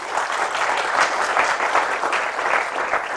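Sustained clapping from an audience at a retail business talk, a thick even wash of many hands close by and loud, continuing without a break and with no talk over it.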